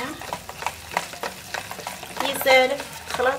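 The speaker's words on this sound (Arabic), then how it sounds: "خلط مزيان" Semolina batter for harcha being stirred by hand in a bowl, a series of soft, irregular scraping and sloshing strokes close by, with a brighter clink of the utensil near the end; no talking.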